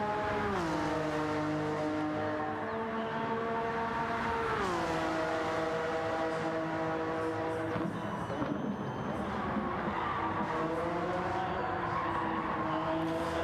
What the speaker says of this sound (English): listen to that engine sound, isn't it great?